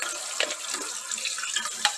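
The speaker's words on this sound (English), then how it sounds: "put this in the water, run the water" Tap water runs into a cooking pot in a home kitchen, a bright, steady splashing rush with small gurgling bursts, close and fairly loud, with no speech.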